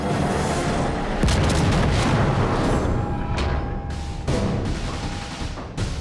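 Main guns on the battleship Dunkerque fire in the naval game Armada, sending heavy booms that roll into one another over a dense rumbling din, loud and close, with several sharp blasts along the way.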